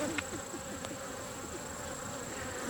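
Agitated honeybees buzzing around an open hive during an inspection of brood frames with larvae, a steady close-up insect drone with individual bees whizzing past, no talking.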